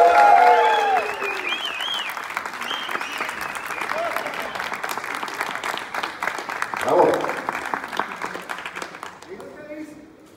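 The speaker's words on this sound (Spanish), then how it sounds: "Quiero que le brindemos un fuerte aplauso al personaje de Miranda Moore" A theatre audience greets actress Liz Vega with strong, sustained clapping, loud and dense, tapering off near the end, while a presenter's voice speaks over the start and middle.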